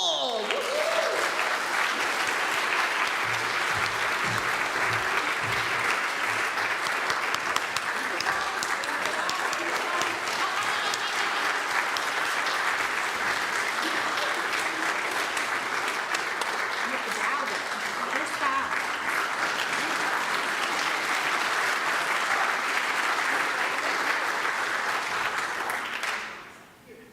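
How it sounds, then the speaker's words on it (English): Loud, sustained audience applause and cheering for a cello ensemble at an annual cello camp concert, with dense clapping that runs steadily for the whole stretch before fading out at the end. "So we will now have a loud applause for the Lalo"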